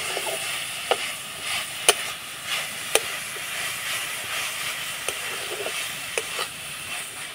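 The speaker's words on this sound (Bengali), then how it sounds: "এবার আমি নাড়াচাড়া করে পুরটা তৈরি করে নেব" Jaggery and grated coconut filling for ras puli is stirred in a pan, a soft continuous hiss and sizzle broken by occasional sharp scrapes and taps of the spatula against the pan.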